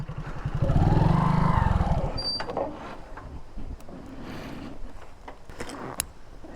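A motorcycle descends a steep slope near a park and resort, its engine loud and close at first, then fading into a quieter rumble and scattered rattles.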